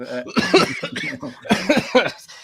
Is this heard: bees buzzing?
no